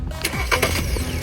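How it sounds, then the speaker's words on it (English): A car cranking and catching right after its camshaft sensor was replaced, with a few quick starter-motor whirs followed by an engine note that holds steady, close and fairly loud, with no one talking. "Next, I'll start the car. See if it can be started successfully."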